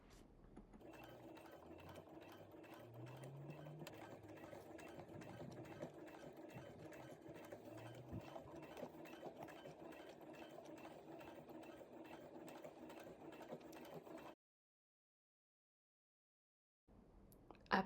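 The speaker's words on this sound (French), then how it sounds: "je viens coudre à 2 mm du bord" A sewing machine stitches a skirt hem 2 mm from a pressed 1 cm fold, running steadily and close for about fourteen seconds with slight speed changes, then stopping into silence before a brief restart.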